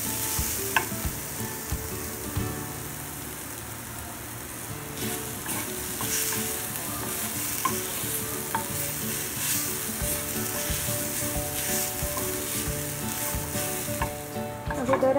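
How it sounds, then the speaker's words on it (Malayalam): Grated coconut sizzles steadily as it is fried and stirred in a pan for a crab curry, with continuous loud crackling and frequent scraping strokes of the stirring spoon and no talk. "നന്നായിട്ട് നമുക്ക് വറുത്തെടുക്കാം."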